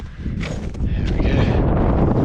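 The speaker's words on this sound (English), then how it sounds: "Again, very windy, sorry." Steady, heavy wind buffeting the microphone on a mountain ridge in Japan's Southern Alps, between Mount Hou-ou and Kaikomagatake, a continuous low roar with gusts, no voices.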